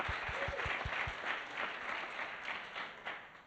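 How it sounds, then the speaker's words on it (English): Audience applause at a student fashion show event, a steady wash of many hands clapping for a contestant, moderately loud and continuous for a few seconds, with a few distinct low thumps at the start. "Can we also have a round of applause for Marla?"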